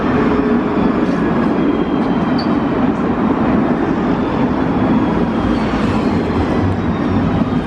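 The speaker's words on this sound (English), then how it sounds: "There goes my tram." A tram pulls away from a stop with a continuous low rumble and rolling rail noise, close and steady through the whole stretch, with no talking over it.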